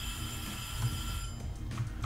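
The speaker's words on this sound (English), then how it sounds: "timer that went off." A timer alarm rings in a quiet room during a Blender 3D modeling and sculpting session, with steady high beeping tones that repeat with no speech.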